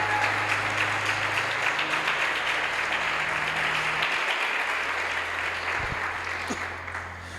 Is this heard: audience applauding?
yes